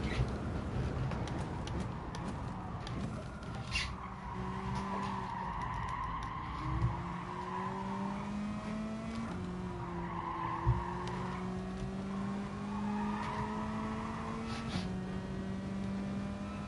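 Tires squeal and skid in a racing video game as a heavy car slides, long sustained screeching with a droning engine underneath, loud and continuous throughout with no talk.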